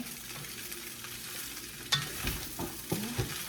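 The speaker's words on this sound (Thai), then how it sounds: "ผัดข้าวแห้งก่อนนะ" Rice is stir-fried in a pan, with a quiet low crackle and a few scraping knocks of the spatula against the pan toward the end.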